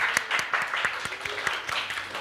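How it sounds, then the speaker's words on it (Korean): A small group at a church youth service claps, with sharp separate hand claps in an uneven rhythm, close and fairly loud, not a full roaring crowd. "여러분 박수 한번 쳐주세요"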